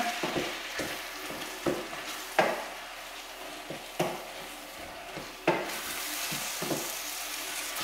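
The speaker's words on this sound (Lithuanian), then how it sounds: "Viską gražiai išmaišome." Spaghetti with meat sauce stirred in a sizzling pan, a continuous frying hiss broken by repeated scraping strokes and soft knocks of the utensil at an uneven pace, close and without speech.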